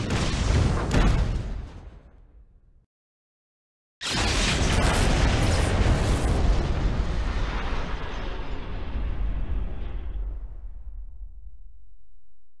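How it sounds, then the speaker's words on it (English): A spaceship blows apart in a space battle video game pitting original Battlestar Galactica against Stargate craft: a loud, close roaring explosion, a sudden cutoff to silence, then a second massive blast whose rumbling debris roar slowly fades out. "The ship has been destroyed, ending simulation."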